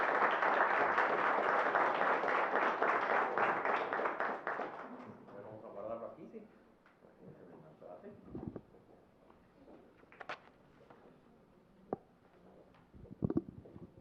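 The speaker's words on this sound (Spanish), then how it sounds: "Fuertes aplausos, por favor." Loud sustained applause from an audience at a lecture on human trafficking fills the first six seconds, then fades into scattered claps and faint room noise.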